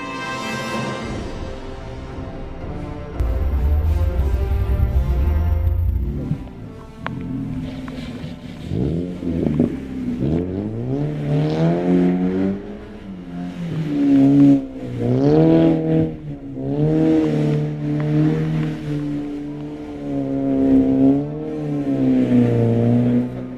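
A Mazda MX-5 Open Race car driving on snow, its engine revving and shifting through rising and falling pitches, with a low rumble early on and repeated surges of acceleration, close and fairly loud with no talking.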